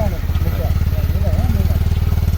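A motorcycle's engine thrums in a steady, rapid pulsing beat, loud and close, as the bike rides off at dusk in the hills while someone talks over it.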